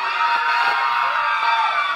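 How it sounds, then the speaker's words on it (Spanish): A live audience at an evening contest event claps and cheers for a contestant named Yuvelkis, a continuous loud wall of applause with scattered shouts and whoops throughout. "¡Aplauso para Yuvelkis!"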